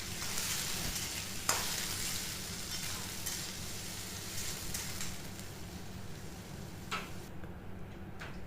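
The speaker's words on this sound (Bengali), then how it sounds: "তো পেঁয়াজটাকে দিয়ে একটু ভাজা ভাজা করে নেব।" Chopped onions fry in hot oil for a country chicken curry, a continuous close sizzle broken by scraping stirring strokes and light ticking taps of a utensil on the pan, with no speech.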